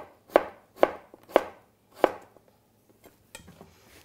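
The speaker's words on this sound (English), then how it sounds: "So we'll just slice that a little more thinly." A knife slicing potato thinly on a cutting board for cauliflower soup: four sharp, evenly spaced chops up close, then a few softer taps trailing off, no talking.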